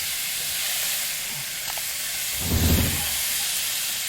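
Beef and onion frying in a pan, with rendering fat giving a steady broad hiss and sizzle, close and even throughout, swelling briefly with a low rumble of tossing near the end.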